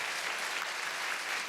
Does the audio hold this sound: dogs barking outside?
no